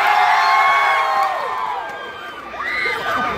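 A large outdoor crowd at a political rally in Pasig cheers and shouts loudly in a sustained roar that dips briefly and then swells again with whoops.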